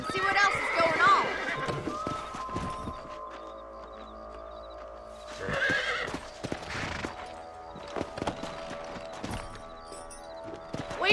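Horses in the Western video game Red Dead Redemption clop at a gallop and let out loud whinnies, with people talking over the hoofbeats.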